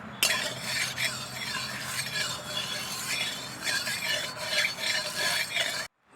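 Potatoes frying in oil in a pan on a home stove, a continuous close hiss and sizzle with light clinks of a utensil against the pan, ending abruptly.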